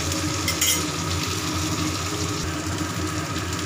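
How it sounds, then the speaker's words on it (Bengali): Onions fry in a pan with a steady close sizzle and soft stirring underneath, loud and continuous throughout. "পেঁয়াজ ভাজা হচ্ছে"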